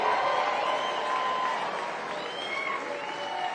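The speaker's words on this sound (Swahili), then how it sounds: "Nataka tusimame na tumpigie makofi kwa sababu" Sustained applause from an audience at a Kenyan political rally, a dense steady clatter of clapping hands lasting the whole stretch, with a faint crowd murmur mixed in.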